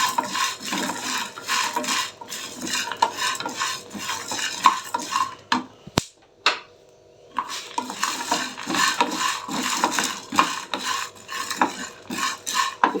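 Whole cinnamon sticks and cloves dry-roasted in a pan for a masala drumstick gravy, with a spoon scraping and stirring steadily and close, broken by a brief pause and a sharp clink before the rhythmic stirring resumes.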